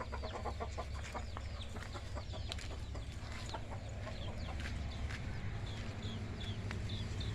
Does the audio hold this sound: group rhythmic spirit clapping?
no